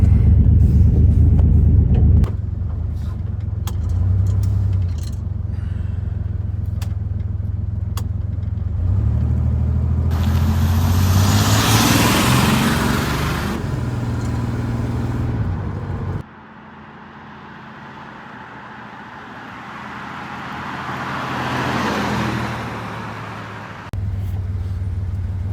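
Rebuilt Buick Grand National engine on a test drive after tuning, a steady low rumble that swells as the throttle opens and gears drop, with a brief quieter stretch before the revs climb again; no talking.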